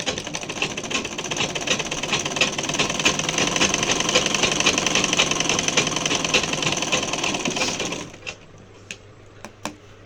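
Sewing machine running a double stitch on a blouse, a dense rapid mechanical rattle for about eight seconds, close and steady, then stopping into a few isolated clicks.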